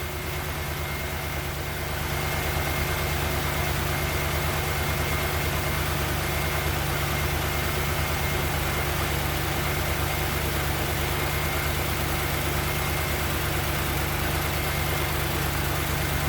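A car engine idles steadily throughout during a warm-up regulator test, its low even rumble continuous and fairly loud, with the revs easing down slightly over time.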